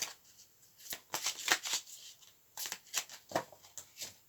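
Tarot cards being shuffled by hand, two quick runs of crisp riffling flutters separated by a short pause, close and fairly quiet.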